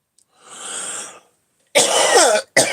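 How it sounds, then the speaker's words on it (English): Two bursts of coughing with a short gap between them, the second rough and throat-clearing, close and loud with no talk over them. "We all died from coughing."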